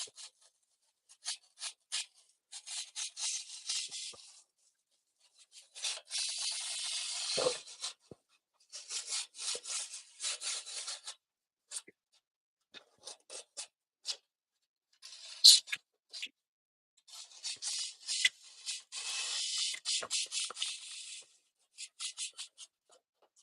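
Wood being hand-carved for surfboard-shaped wall art, with bursts of rasping, scraping tool strokes in uneven groups separated by short pauses, close and moderately loud.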